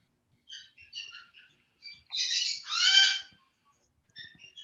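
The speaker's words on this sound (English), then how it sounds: "we have birds from Denise in this call today at the opening ceremony" Birds call in a series of short chirps and trills, followed by two louder, longer whistled calls and a few more brief chirps, clear against near silence.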